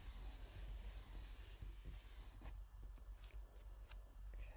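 Sheets of watercolor paper being handled and flipped upside down, giving soft, close rustling and rubbing scrapes that run quietly through the moment with no talking.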